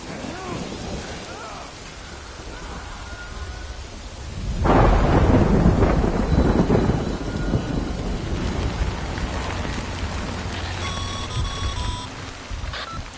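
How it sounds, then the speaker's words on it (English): Rain falls steadily in the video game Death Stranding, then a loud, deep thunder rumble rolls in and slowly fades under continuing rain, with faint electronic beeps near the end. "Good thing it was raining."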